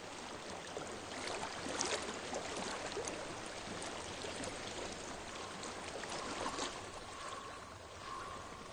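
Steady broadband rush of a flowing stream in the video game Hellblade, continuous and moderately loud throughout with no voices over it.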